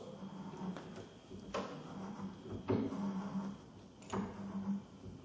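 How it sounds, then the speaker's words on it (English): A hand stock and die cuts threads into steel conduit, making quiet, intermittent scraping clicks spaced about a second apart over faint background noise. "Now the stock and die is in place, we're now going to continue the threading process."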